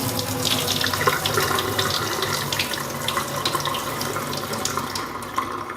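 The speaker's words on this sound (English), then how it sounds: "You're just going to boil your beans like you normally do, and then you're going to drain them." Boiled beans being drained in a kitchen sink, water pouring and splashing steadily into the basin with a continuous rushing flow throughout, fairly close and with no talking.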